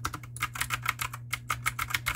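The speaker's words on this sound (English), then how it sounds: "It even kind of sounds like an old-fashioned typewriter." Computer keyboard in a craft room with a clacky, typewriter-like sound, rapid close keystrokes in uneven bursts over a low steady hum.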